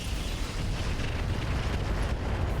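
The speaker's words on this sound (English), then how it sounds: "Fire the rocket packs." A dense, continuous roar of rocket pack explosions in the mech combat game RogueTech, loud and sustained with rumbling low-end bursts blending together.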